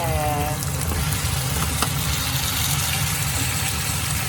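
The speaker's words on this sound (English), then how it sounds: "So I fry them until golden brown and covered for 15 minutes" Chicken and lean pork fry in a pan until golden brown, a steady close sizzling hiss running without pause under a low background hum.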